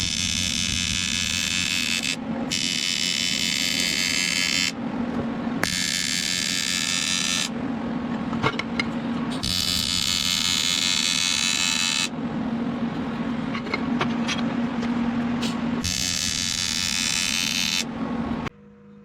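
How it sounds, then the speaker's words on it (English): Welding a bead around an intercooler coupler pipe for a twin-engine, twin-turbo Mazda MX-3 makes a loud, steady crackling buzz. It comes in about five long bursts, each cut off by a brief pause. "So I'm going to weld a bead all the way around as smoothly as I can"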